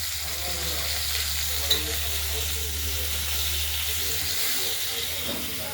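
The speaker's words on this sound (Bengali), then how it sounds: "আলুটা ভাজার জন্য হলুদটা দেওয়া হলো।" Potatoes with salt and turmeric frying in a pan, a dense continuous sizzle over a low steady hum, with a brief clink partway through and no voices.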